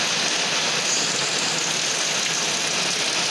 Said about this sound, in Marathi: दिसता पाऊस इलो आहे बघा